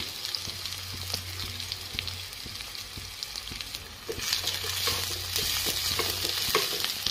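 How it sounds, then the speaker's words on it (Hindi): Chopped garlic and dried red chillies frying in a pan until browned, a steady sizzle with scattered pops and scraping stirs that grows louder and brighter in the second half. "जस्ट हल्का कर भाजदे कि ब्राउन होला पर्यंत"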